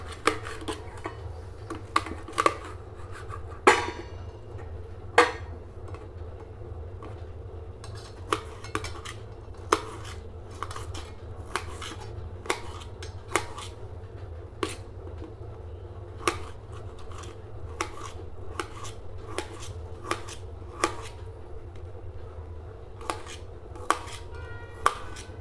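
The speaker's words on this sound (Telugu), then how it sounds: "ఇగో దోసకాయ ముక్కలు ఇట్లా కోసుకోవాలి." A knife slices a firm cucumber into pieces on a board, making sharp irregular taps and clicks up close over a low steady background hum, with no talk.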